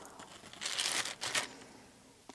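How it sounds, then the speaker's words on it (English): Plastic bag crumpled by hand during a faux leather paint technique, with two bursts of crinkling close to the mic, then a brief rustle. "plastic bag"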